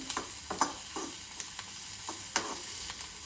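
Makhana vegetable with coriander being sautéed in a pan for a fasting meal: a steady low sizzle of frying runs throughout, broken by light scraping strokes of a spoon stirring at irregular intervals.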